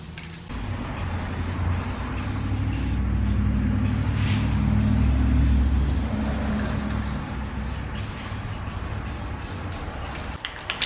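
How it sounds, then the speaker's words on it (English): A can of glossy black Rust-Oleum spray paint hisses in a long, continuous burst over a low background rumble, close and steady for several seconds before easing off. "The paint I'm using is a glossy black Rust-Oleum."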